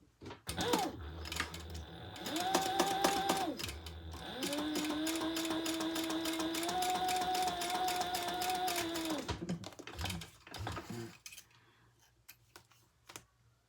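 Sewing machine stitching across the top fold of a small crossbody bag, running in several sustained bursts of rapid, steady whirring with short pauses and handling clicks between runs, close and fairly loud.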